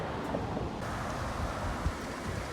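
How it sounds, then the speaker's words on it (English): Steady wind rushing and buffeting across the microphone, a constant broadband roar with no speech. "Oh, it is pretty windy too now from the south."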